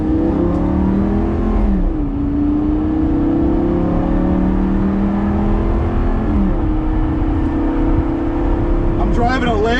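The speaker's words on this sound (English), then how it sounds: "I'm driving a Lambo, guys" A Lamborghini Gallardo driving, its engine droning steadily with pitch rising and falling as it accelerates and shifts, heard from inside the car with a voice talking over it.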